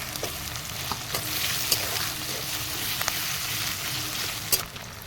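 Tomato goes into a spiced river aar fish curry in a frying pan, which keeps up a steady close sizzle with occasional ladle clicks and stirring scrapes.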